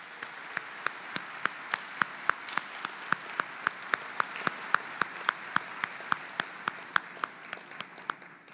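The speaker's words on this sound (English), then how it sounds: "let's give them a round of applause anyway" A lecture audience gives a round of applause, heard as sparse, distinct claps in a loose steady rhythm over a faint background patter.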